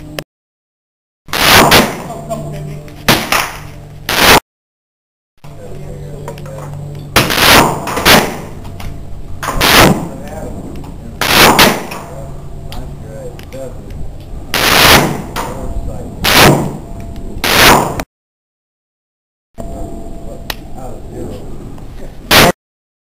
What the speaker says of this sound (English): I'm going to shoot at the top left.